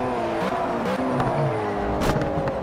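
Turbocharged car engine in Project Cars racing game, a steady loud drone with shifting engine tones and a brief rev surge near the end, heard alone.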